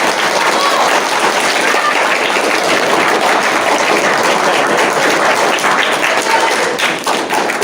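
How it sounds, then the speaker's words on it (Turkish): Sustained applause from a crowd, dense clapping that stays steady and loud for several seconds without any break. "Alkışlayabilirsiniz arkadaşlar."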